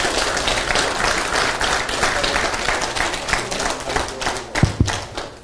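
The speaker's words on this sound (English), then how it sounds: "let's give the Lord a clap offering one more time" A church congregation claps for a clap offering, a dense steady wash of applause with a few sharp louder claps or thuds near the end.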